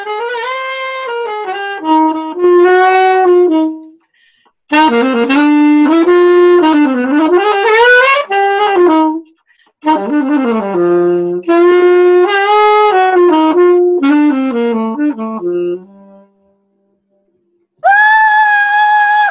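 A saxophone playing a funky solo, loud, close phrases with bent and sliding notes broken by short pauses, played alone without talking.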